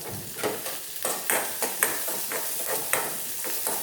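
A South Indian tempering with asafoetida frying in a pan, a steady crackling sizzle broken by regular scraping stir strokes, close and moderately loud, with no voices.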